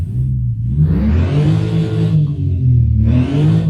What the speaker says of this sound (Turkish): O egzozdan gelen sesi beğendim.